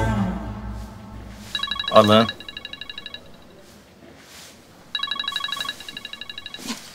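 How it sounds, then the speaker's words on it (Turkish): Telephone bell rings in two bursts of rapid ringing, loud and close, with a voice and other talk in a domestic drama scene around and over it. "Kusura bakmayın, şu telefona bakmam lazım da."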